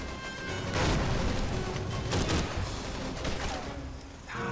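Dense, sustained gunfire from World War II era guns in the video game Call of Duty 3, near and loud with overlapping shots and booms throughout, no talk.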